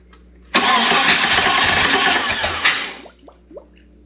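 Jeep 4.0 engine with a slip-on exhaust cranking and firing up loudly at close range, revving for a couple of seconds before settling down, followed by a few faint knocks.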